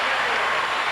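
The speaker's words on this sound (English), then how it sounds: "the crowd here at Rutgers rising to their feet again, applauding the effort the Scarlet Knights have given today" A basketball crowd at Rutgers applauds steadily, a dense, even wash of clapping from a large arena audience without pause.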